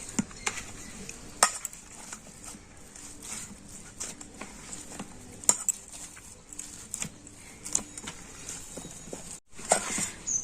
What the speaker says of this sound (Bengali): আর নারকেল কুড়ো দিয়ে তো এই মিশ্রণটা কিন্তু খুব ভালো করে আমি হাত দিয়ে মেখে নেব